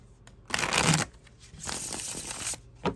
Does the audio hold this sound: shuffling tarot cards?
yes